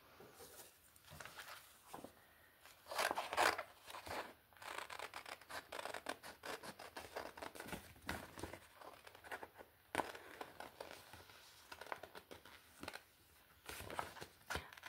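Paper is cut with scissors for a junk journal collage, a close, quiet run of irregular snips and paper rustles with short pauses in between and no one speaking.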